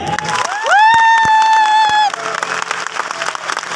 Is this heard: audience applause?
yes